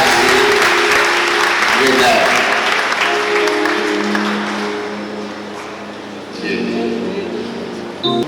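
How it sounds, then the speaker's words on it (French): An audience applauds warmly at a ministry school graduation commencement in Haiti, a dense, steady wash of clapping that fades in the middle and swells again near the end, with a voice speaking over it. "Veuillez d'applaudir s'il vous plaît chaudement"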